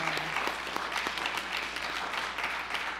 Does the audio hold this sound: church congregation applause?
yes